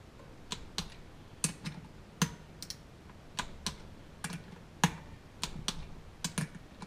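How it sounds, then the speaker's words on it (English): Sharp metallic clicks and taps from work on the clutch bolts and springs of a KTM 300 motorcycle, a dozen or so irregular, close, crisp ticks over quiet background. "so now I'm just doing up the springs and bolts that go in to the clutch housing"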